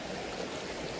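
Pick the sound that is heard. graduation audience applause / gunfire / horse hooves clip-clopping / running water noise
running water noise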